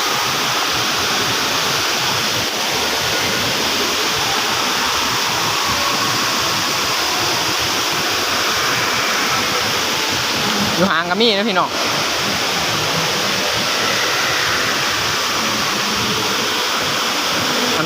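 A waterfall roars steadily and loudly throughout, while someone talks over the constant rush of water.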